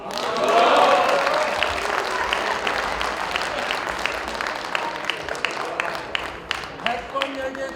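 Members of a Korean parliamentary session clap in scattered, uneven bursts under a noisy chamber murmur, the applause fading toward sparse individual claps as voices continue.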